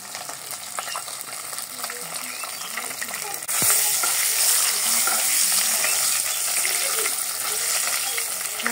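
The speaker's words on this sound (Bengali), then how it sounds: "মাছের লেজাটা একটু ভালো করে ভেজে নিলাম।" A fish tail fries in hot oil in a pan with a steady, dense sizzle and crackle that gets louder and brighter partway through, with occasional faint scraping.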